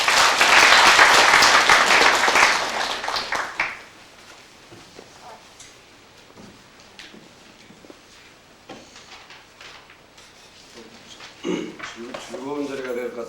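Loud applause greets a newly appointed university labor union branch leader at his inauguration and general meeting, a dense burst of clapping for about four seconds before it fades into a quiet room with scattered movement and a few low voices.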